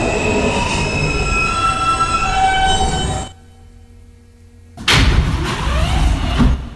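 A Queens-bound F local New York subway train runs with loud, sustained metallic wheel squeal, drops to a low hum for a moment, then surges back with rumbling and screeching, close and continuous.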